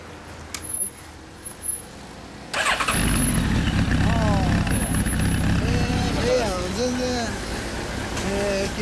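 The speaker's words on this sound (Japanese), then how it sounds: "エンジン音聞かせてもらえるかな。" A 2008 Honda CB1300 Super Four motorcycle engine fires up partway through and settles into a loud, steady run close by, with voices talking over it.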